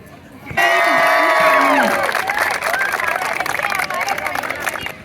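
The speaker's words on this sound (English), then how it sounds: "Spectators are engaging intensely and they are cheering up for their respective houses." Spectators at a school inter-house sports match cheer loudly for their houses, a sudden swell of shouting and high children's voices that stays dense and sustained, with clapping mixed in.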